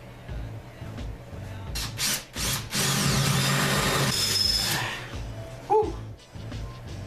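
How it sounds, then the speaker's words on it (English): A power drill bores a hole into a hard plaster wall while a TV mount goes up, the motor whining loudly in sustained bursts with brief pauses and a short clatter near the end. "I'm gonna drill one more hole to start with."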